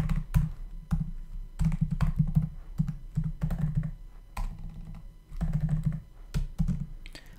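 Keys clatter in steady bursts as code is typed on a computer keyboard, close and fairly quiet, with short pauses between runs of rapid taps and no talking.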